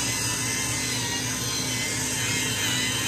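Facial cleansing brush scrubbing a face during a skincare routine, a constant close whirring buzz with a steady texture and no breaks, no talking.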